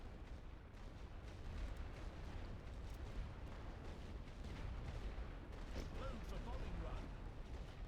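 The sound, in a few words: artillery firing suppression shells in video game The Great War: Western Front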